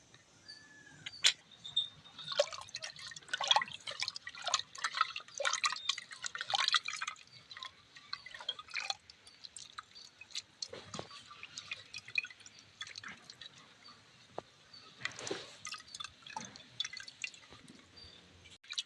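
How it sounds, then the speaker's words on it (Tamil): Soaked tamarind gets squeezed by hand in a bowl of water, giving soft, close wet squishes and drips in irregular bursts, with quieter gaps between them. "புளி நல்லா ஊறிடுச்சு, கரைச்சிக்கலாம்."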